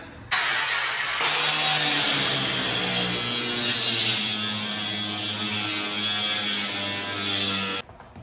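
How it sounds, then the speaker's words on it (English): A side grinder cuts through material during a koi pond build, starting abruptly and then holding a loud, harsh, continuous whine with a steady buzzing tone before stopping sharply. "Just like that, we got us a side grinder."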